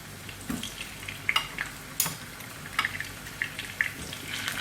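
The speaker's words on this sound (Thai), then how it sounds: "ทอดมันฝรั่งค่ะ" Potatoes frying in oil, a soft background sizzle broken by scattered light clicks and stirring taps, fairly quiet and with no voices.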